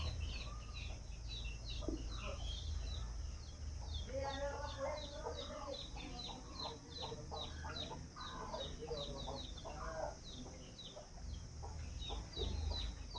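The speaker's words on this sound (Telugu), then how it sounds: "ఈ పాలు కోళ్ళు కదా" Chickens cluck repeatedly in the background, steady and moderately near, with a low rumble underneath and bursts of bird calls in the middle.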